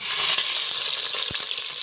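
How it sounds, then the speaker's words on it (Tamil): Onions fry and get stirred in a pan for a home-cooked Sunday meal, a steady bright sizzle with scraping taps of a spoon, close and alone. "வெங்காயம் சேர்த்துக்கிறேன்."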